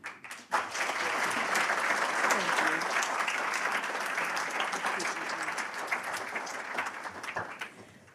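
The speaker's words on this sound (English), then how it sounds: "I hope you're not tired of clapping" Sustained applause from a large crowd at an alumni awards ceremony, steady dense clapping that swells in and continues throughout.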